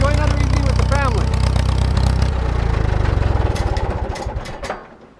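A tractor engine runs steadily and loud while clipping a pasture on clay ground, a low rhythmic chug that holds for several seconds and then fades and slows toward the end, with no talking over it.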